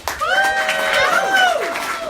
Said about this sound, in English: Cheer for Vicki and Kiki.